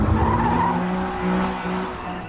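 A car drifting on a track in a drifting challenge, tires skidding in one sustained, loud squeal with engine drone underneath, close by.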